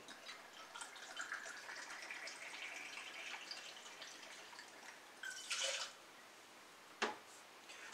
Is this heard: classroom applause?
no